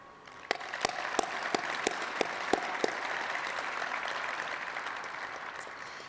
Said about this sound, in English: please join me in a round of applause for all our distinguished guests tonight